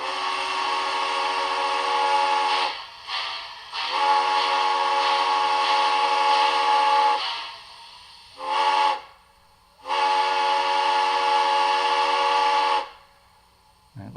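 A model steam locomotive's sound-system whistle, a Broadway Limited T1 2-10-4 with TCS WOWSound, sounds in several long blasts with short toots between them, bright and loud, each cutting off sharply into near silence.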